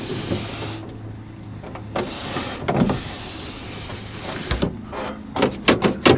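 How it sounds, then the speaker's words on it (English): A hand crank winds a car window on a Ford F100 truck, giving a few short mechanical squeaks and ratchety strokes close by, with a run of quicker bursts toward the end. "Nice window crank."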